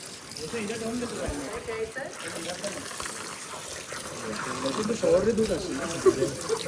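Water running from a tap as people wash their feet before entering a temple, a soft trickling splash under close conversation, growing a little busier toward the end.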